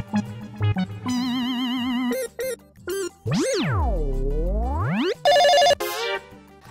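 A telephone ringtone plays loudly in a comedy scene, with warbling synthetic electronic tones, swooping pitch glides and short bursts in a choppy sequence, with no voices over it.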